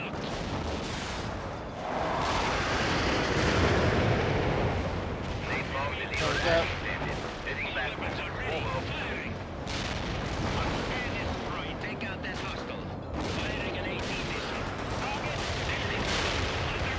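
Artillery and gunfire in the real-time strategy game World in Conflict, with a steady dense roar of cannon blasts, booms and rattling shots, a few heavier explosions standing out, mixed with game radio chatter.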